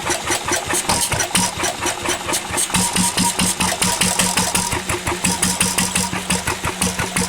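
A Lister diesel engine runs steadily with a fast, even rhythm of chugging exhaust beats, loud and close, and it is heard alone the whole time.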